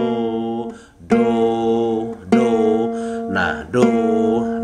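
Ukulele third string plucked to sound the note do, ringing in several repeated single notes with clear sustained harmonics, close and fairly loud, with short gaps of quieter decay between plucks.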